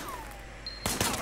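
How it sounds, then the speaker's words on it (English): A quick burst of gunfire in the Sleeping Dogs video game, shots fired from a car's passenger window, a short sharp crack after a brief whistling tone, close and loud over a low hum. "Firing shots from the passenger window."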